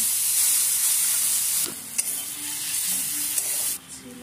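A homemade spice mix sizzles with baby potatoes in a hot pan, a loud steady frying hiss that drops briefly partway through as the mix is added and stirred, with a few soft clinks and no talking.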